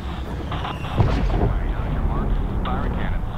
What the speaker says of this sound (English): Missile off the rail.